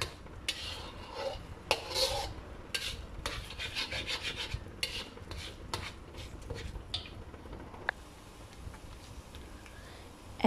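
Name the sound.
mixing eggs in a pan for fried rice noodles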